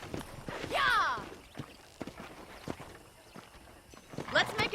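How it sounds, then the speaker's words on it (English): Horse hooves clip-clopping on a ranch in the video game Red Dead Redemption, a steady close walking rhythm with a couple of brief whinnies, while voices talk over it. "I picked out a fine horse for you."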